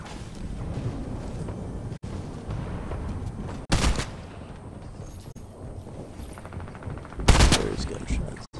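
Two sharp, loud gunshot bursts in Fortnite crack out over a rumbling, windy background, the second stronger, with scattered smaller pops between.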